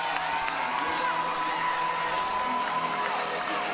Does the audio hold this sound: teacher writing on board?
no